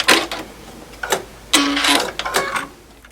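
A sewing machine runs in short bursts along a quilt seam for a log cabin block, whirring and clicking through a back stitch, close and clear with brief pauses between runs.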